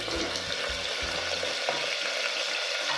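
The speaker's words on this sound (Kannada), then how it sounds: "ಸ್ವಲ್ಪ ಕೊರಿಯಂಡರ್, ಸ್ವಲ್ಪ ಕರಿ ಲೀವ್ಸು ಚೆನ್ನಾಗಿ ಫ್ರೈ ಮಾಡ್ಕೋಬೇಕು" Brinjal and potatoes fry in hot oil with mustard seeds, onion, coriander and curry leaves, giving a steady close sizzle, with a few soft stirring knocks early on.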